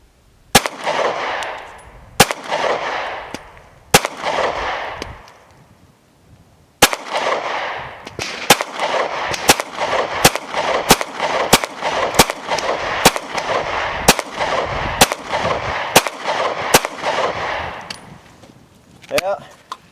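Glock 43x pistol firing from an S15 magazine at outdoor targets, about twenty sharp, loud shots, a few spaced single shots, then a faster string, each with a short echo tail.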